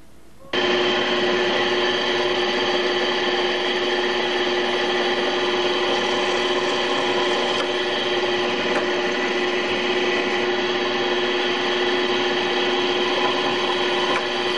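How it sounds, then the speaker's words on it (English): A steady, high-pitched whine of a power drill boring a hole in plywood, running continuously, loud and close, with no talking over it. "now we're going to get a hole drilled in here as close as possible"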